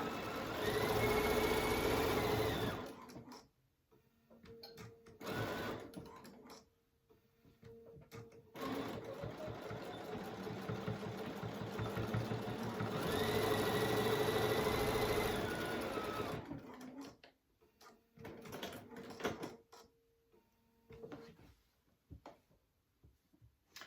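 A sewing machine quilting a crochet needle case runs in steady bursts, loud and close, with pauses between stitching runs and a second long burst in the middle.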